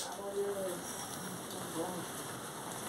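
Steady rain falling on a surface, a constant hiss with faint patter throughout, with no other sounds standing out.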